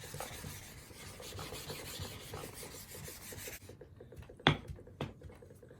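A straight razor is honed on a natural whetstone with abrasive slurry, giving a steady close rasping scrape for several seconds. It stops abruptly, then two brief sharp strokes follow in near quiet.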